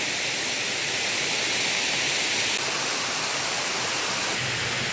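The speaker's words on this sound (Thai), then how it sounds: "ก็จะมีบริเวณนี้ให้ได้นั่งเบิ่งน้ำตกตาดเนาะ" A forest waterfall pours in a constant, even rush of falling water, close and full, with no voices over it.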